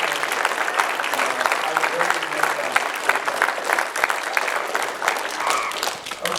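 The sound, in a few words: audience applause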